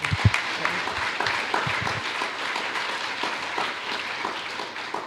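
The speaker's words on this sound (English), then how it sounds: "let's give another round of applause for Ranjit for doing a fantastic job." An audience at a conference business meeting claps in a steady wash of applause, with a few sharper individual claps near the start, sustained for several seconds without talk.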